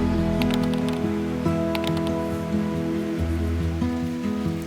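Steady rain falls outdoors in Ubud, Bali, as a soft, even patter with scattered drips and ticks, heard over a low background hum and with no talking.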